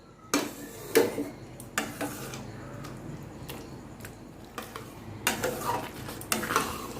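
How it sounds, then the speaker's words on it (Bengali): A pot of palm fruit kheer being stirred with a utensil, giving a run of clanks and scrapes against the pot at an uneven pace over a low background hum, with no talk. "দেখুন এটাকে আমি 3-4 মিনিট ধরে নাড়াচাড়া করে নিয়েছি।"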